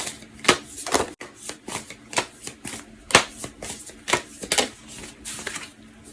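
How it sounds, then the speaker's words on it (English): Tarot cards are shuffled by hand in a run of quick, crisp riffles and flicks, close and fairly soft, with brief pauses between bursts. "that came out while I was shuffling"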